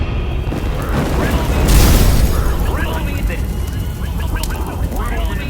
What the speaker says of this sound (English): the lighthouse suddenly explodes